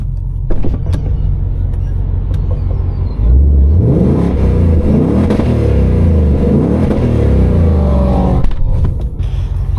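A new Ford Mustang GT's engine idles, then is blipped and revved several times, loud and close, with deep rising and falling surges before settling back near the end.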